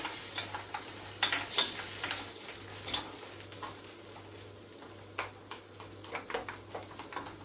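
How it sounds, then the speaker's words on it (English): Frozen king prawns frying in a hot pan while being stirred and moved around, a steady low sizzle broken by irregular scraping and clicking taps of the utensil, close and fairly quiet, with no talking. "move them around so they get lots of the heat from the pan"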